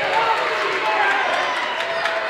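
At a girls' high school basketball game between Dover and New Philadelphia, a gym crowd reacts to a traveling call with a dense, loud roar of cheering and shouting that stays steady throughout.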